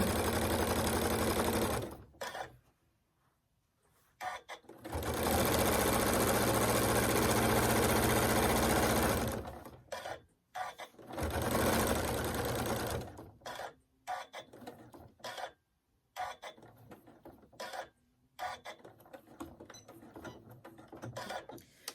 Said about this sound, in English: And then I just start sewing again all the way down.